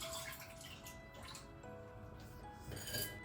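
A cup of water is poured into the inner pot of a Crockpot Express pressure cooker, a faint, brief splashing and trickling of liquid with no voices.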